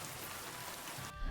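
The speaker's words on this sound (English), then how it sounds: "Shouldn't be under a tree when it's raining, you might get hit by lightning." Steady rain falls in the medieval video game Kingdom Come: Deliverance II, a soft, even hiss of drops pattering on surfaces, faint and continuous for a moment before cutting off.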